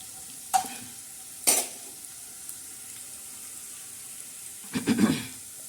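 Cumin and garlic tempering for lemon chilli pickle sizzles and gets stirred in hot oil, heard as a few short, close bursts of frying and scraping against a quiet background.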